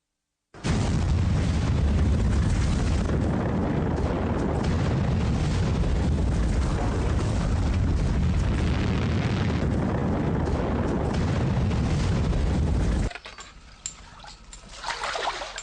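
A massive volcanic eruption, the Toba supervolcano on Sumatra, rendered as a documentary effect: a sustained, loud, dense roaring blast lasting many seconds, then dropping abruptly to a quieter rumbling tail.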